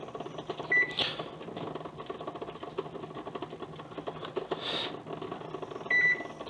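Oven control panel beeps as a home cook sets the temperature to 400 while making cinnamon rolls, two short high electronic beeps near the start and end, with a faint rustle and kitchen clatter in between.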